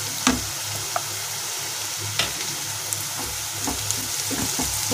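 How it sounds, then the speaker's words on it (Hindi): Onions and spices fry in a pan for a baingan bharta, making a continuous low sizzle while a spoon scrapes and taps at irregular intervals. The sound is close, with no speech. "अब प्याज के अंदर मैं ये मसाले ऐड कर दूंगी।"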